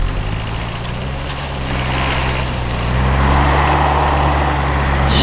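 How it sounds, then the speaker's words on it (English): A diesel-powered Land Rover climbs a snowy trail on an Arctic winter camping trip, its engine a steady low drone close by that swells slightly as the vehicle pushes on. "Nick and I are going to take our plucky foreign diesel powered vehicles up this little trail"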